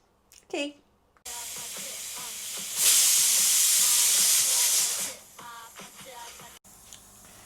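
A pressure cooker lets out a loud, sustained steam whistle lasting a couple of seconds, with softer hissing and clatter before and after.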